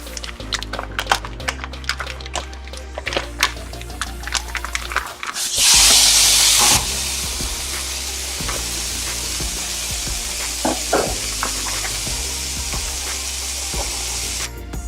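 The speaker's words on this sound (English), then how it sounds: "I just love to hear that sizzle." Loud, steady sizzling of grass-fed ground beef frying in a hot pan, with a burst of intense hissing partway through and occasional scraping and stirring.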